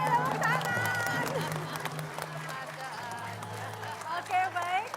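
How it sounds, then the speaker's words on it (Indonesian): An audience at an event with women legislative candidates breaks into applause, a dense patter of clapping from a crowd under steady talk and murmuring voices. "Oke, tepuk tangan."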